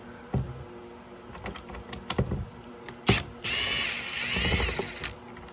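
A tool works loose the screw of a car door handle, giving close clicks and ratcheting taps, then a longer whirring, buzzing run near the end.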